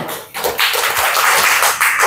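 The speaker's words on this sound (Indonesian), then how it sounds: "Tepuk tangan untuk Farel" A class applauds a student: a short, dense burst of many hands clapping together, close and loud, lasting about two seconds with no talk.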